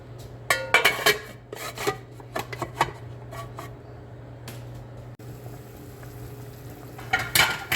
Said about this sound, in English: Now it's well boiling, so this is the right time to add the rice.